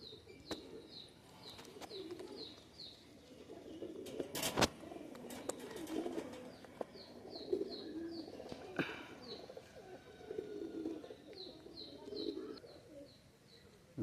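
Pakistani high-flyer pigeons cooing, soft repeated coos close by with occasional chirps and a few sharp clicks or wing sounds in between.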